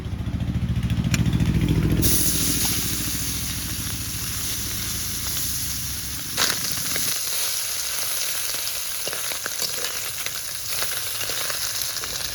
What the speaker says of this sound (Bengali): তেল তো ভালো গরম হয়ে এসছে মা মাছগুলো তেলে ছেড়ে দেবো